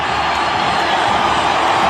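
A cricket crowd at a Test match in Bengaluru cheers and claps for a batsman's first Test fifty, a loud, continuous roar of massed cheering and whoops.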